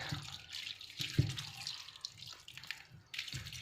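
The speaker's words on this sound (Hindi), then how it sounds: "और मसाले डालने के बाद इसमें हम डालेंगे सिरका खूब सारा" Vinegar is poured generously into an oil-free mixed vegetable pickle of carrot, cauliflower, garlic and chili, making a faint, uneven trickling and splashing of liquid.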